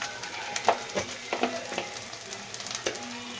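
Fish heads sizzling in hot oil in a pan with a crackling, spattering fry throughout and a few louder pops, close up, with no talking.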